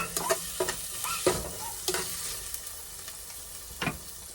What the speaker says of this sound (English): I'm going to just kind of toss it around, turn the eye down just a little, because we don't want it to cook too fast